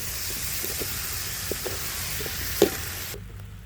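Chicken feet and heads fry in a hot pan and get stirred: a continuous oily sizzle with a few soft knocks and scrapes of the spoon, then a sharper clack near the end as the sizzle cuts off.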